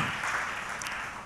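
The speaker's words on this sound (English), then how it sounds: "give the Lord a good hand clap one more time" A church congregation claps their hands together in a dense, steady burst of applause that fills the whole short moment without a break.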